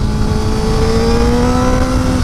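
A motorcycle engine revs loudly and steadily under a bridge, with a rising harmonic engine tone held at close range and echoing off the structure for the whole stretch.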